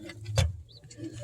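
Hobby pigeons cooing nearby, with low soft coos running throughout and a sharp flutter or scuffle of wings midway.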